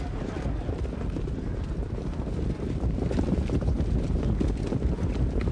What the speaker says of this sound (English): Off and trotting, My Man Can is first out of there with Hall of Muscles on the far outside.